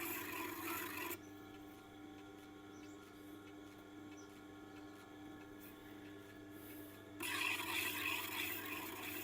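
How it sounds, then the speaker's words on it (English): Knife edge being honed on a strop loaded with Veritas chrome oxide abrasive, a soft rasping rub at the start and again near the end, with a quieter hum-filled pause between the strokes. "Now I'm not pushing down when I do the honing. I just let gravity rest the knife and let the abrasives do the work."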